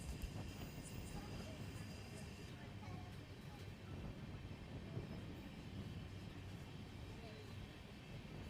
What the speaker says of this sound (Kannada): ನಮ್ಮ ಟ್ರೈನು ಸೋಲೂರು ರೈಲ್ವೆ ಸ್ಟೇಷನ್ನ ಸ್ಲೋ ಆಗಿ ಸ್ಕಿಪ್ ಮಾಡ್ತಿದೆ